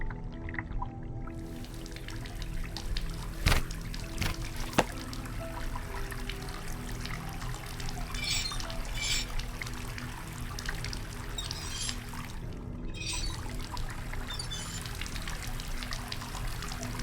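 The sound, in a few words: water running from a tap in horror video game Asylum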